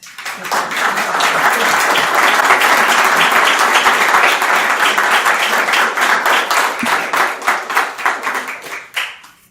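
Sustained audience applause greets a speaker taking the stage at a lecture event, dense clapping from many hands that swells quickly, holds steady, then thins out into scattered claps before stopping.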